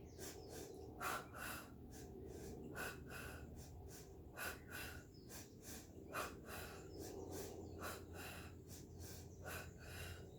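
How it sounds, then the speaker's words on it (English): Repeated quick sniffs and exhaled breaths close to the mic, a steady rhythmic pattern of short bursts over quiet background noise. "Sniff, sniff, blow, blow."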